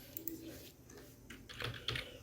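Keys tapped on a computer keyboard while entering a number into an Excel spreadsheet: a loose run of soft, close clicks, clustering into a few sharper presses near the end.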